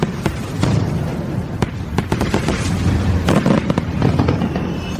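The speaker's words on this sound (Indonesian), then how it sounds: "Dia akan mengadakan pertunjukan kembang api untuk merayakan kelahiran anak kami" Fireworks crackle and pop in a rapid, irregular series of sharp bursts, some booming louder, continuing throughout without any voices.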